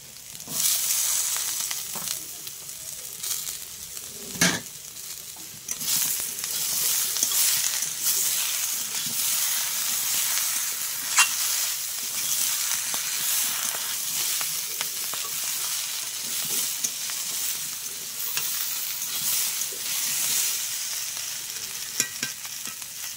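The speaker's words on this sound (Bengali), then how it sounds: "পুঁই শাকটা দিয়ে কিন্তু আমি আর অল্প একটু ভাজবো" Malabar spinach (pui shak) frying with mixed vegetables in a pan, making a continuous bright sizzle broken by occasional scraping stirs and one louder clatter early on, with no speech.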